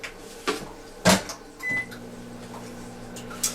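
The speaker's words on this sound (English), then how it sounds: "put it in the microwave for 30 seconds" A microwave oven heating a hot dog for 30 seconds starts with a click and beep, then hums steadily with a low drone, preceded by a few door and cupboard knocks.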